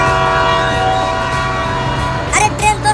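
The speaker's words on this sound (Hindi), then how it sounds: "अरे ट्रेन तो सीटी मार रही है।" A cartoon train sounds a long, sustained whistle blast, loud and steady throughout, with a few rougher, wavering sounds breaking in near the end.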